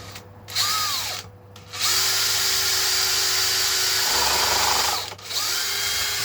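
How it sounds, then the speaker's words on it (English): Power drill boring deeper into a slot in a late-'60s-style Stratocaster guitar body, a loud whining motor with grinding bite into the wood, running in bursts that pause briefly twice. "See if I can just squeeze a little bit more out of this drill"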